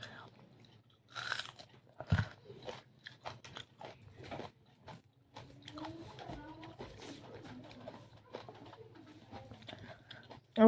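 Loud, close crunching bites of raw onion during a rice-eating meal, coming in irregular bursts mixed with chewing, while a voice talks intermittently over it.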